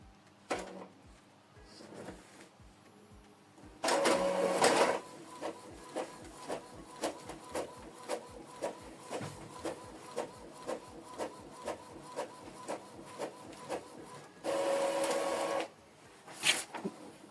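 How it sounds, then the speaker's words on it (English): An Epson EcoTank L3280 printer prints a test page. There are two louder whirring bursts of the carriage and paper feed, and between them a steady train of rhythmic mechanical clicks and ticks at close range. "Print test page."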